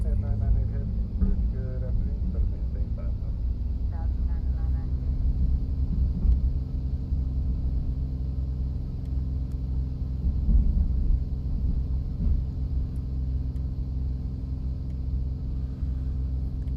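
A2A Comanche 250 light aircraft engine in Microsoft Flight Simulator 2020, a steady loud droning rumble as it throttles up for a takeoff roll down the runway at Avalon, continuous throughout.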